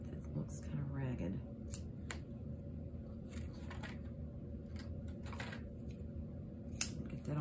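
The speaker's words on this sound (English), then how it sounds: "I'm just gonna snip those off to the length of the others and trim that little end" Scissors snipping thread ends while sewing fabric pockets, a few soft, close snips heard faintly beneath a person speaking.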